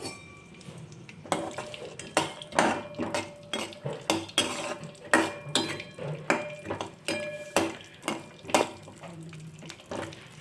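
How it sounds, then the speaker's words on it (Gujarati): Cashews being stirred in melted ghee in a pan on low heat for cashew curry: a steady run of close, rhythmic scrapes and clinks of a spoon against metal, about one every half second. "હવે આપણે બધું હલાવી દઈશું।"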